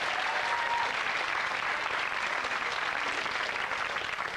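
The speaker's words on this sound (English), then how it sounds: "Round of applause for Susan and Fiona, ladies and gentlemen." Studio audience applauding on a 1989 UK TV game show, The Pyramid Game; steady, dense clapping from a crowd sustained throughout at an even level with no talk.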